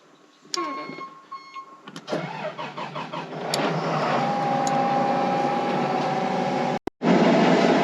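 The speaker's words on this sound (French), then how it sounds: "on met en route la moissonneuse batteuse et on est parti à récolter ces tournesols." A combine harvester starting up for a sunflower harvest: clicks and a whirring starter lead into a rising engine, then a steady loud running drone with a whining tone, briefly cut by a gap before resuming louder.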